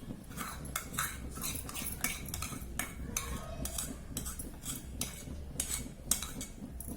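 Thick cream for mawa rasmalai is spooned into milk in a pan, with quiet metallic clinks and scrapes of a spoon against the vessel at an irregular pace.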